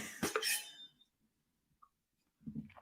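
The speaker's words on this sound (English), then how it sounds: "Now I'm going to cough, of course, now that we're at the end." A single close, sharp cough, then near silence with a faint squeak and a short breathy sound at the end.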